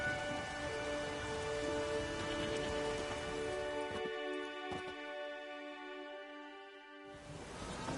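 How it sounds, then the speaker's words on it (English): Steady rain falls in The Witcher 3, a dense hiss that drops away near the end, with sustained musical tones over it. "There's no point standing here in the rain."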